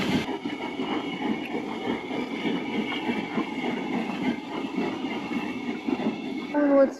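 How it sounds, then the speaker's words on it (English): A steam engine train standing at Lakeside Station, heard as a steady low rumbling idle with a faint hiss throughout, a brief sharper mechanical squeal rising near the end. "The engine's in at Lakeside."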